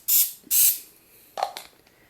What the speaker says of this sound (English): I just spray a little bit of cooking spray in the bottom of these